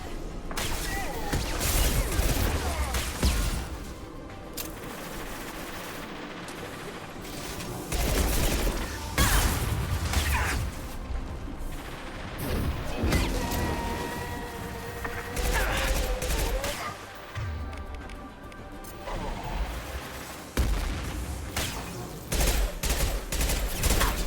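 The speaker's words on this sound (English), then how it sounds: "Firing a high-impact shot" Heavy weapon fire in the sci-fi shooter Mass Effect 2, dense booming shots and impacts layered with battle noise and music, continuous and loud throughout, with a voice talking at times.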